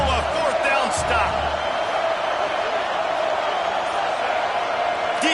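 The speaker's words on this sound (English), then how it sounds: "This crowd busting the decibel meter and trying to will a 4th down stop." A packed stadium crowd roars continuously at a college football game between Utah and Tennessee during a fourth-down defensive stand, loud and sustained, with a commentator's voice over the top.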